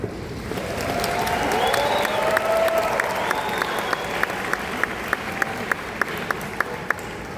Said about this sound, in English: please give a round of applause for tonight's musicians who will guide you through this